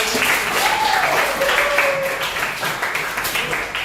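Classroom students clap their hands together in a lesson, a dense burst of applause under a teacher's voice, tapering into a few scattered claps.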